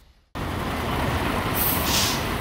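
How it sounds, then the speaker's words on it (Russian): Loaded heavy trucks rumble past one after another on a residential park-side street in the early morning, a loud, steady broadband roar that swells in suddenly and keeps going, with no talk. "Грузовики один за одним"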